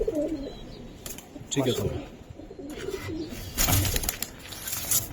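Pakistani Giribaz pigeons coo in short, soft, throaty bursts, close by, with someone talking briefly among the calls.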